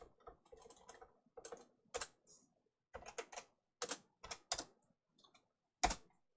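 Typing on a computer keyboard while writing code in Construct 2, with irregular bursts of key clicks and short pauses between words, fairly faint and close with no talking.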